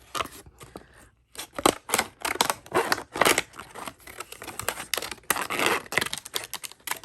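A We R Memory Keepers disc punch cutting through plastic, a series of loud sharp crunching clacks and snaps in irregular bursts with brief pauses between punches.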